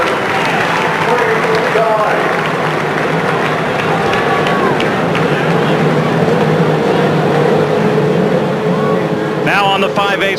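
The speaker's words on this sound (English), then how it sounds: "the engines begin to roar as all 33 respond to Mary Holman's command" Indy car engines roar to life together at the start of the 1995 Indianapolis 500 along the main stretch, a dense, steady wall of engine noise with crowd and a voice faintly underneath.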